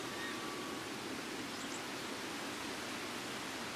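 Steady rushing waterfall in the video game Ico, heard as broadband white-noise-like roar filling a room, constant and even with no talk over it.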